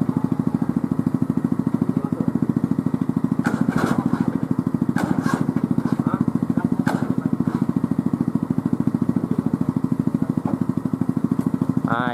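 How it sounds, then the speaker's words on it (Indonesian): A motorcycle engine drives a homemade helicopter built from scrap parts, running steadily and loudly up close with a dense, even throbbing rhythm and a few brief clanks over it. "Mesin motor tadi tuh, nah itu baru mutar tuh."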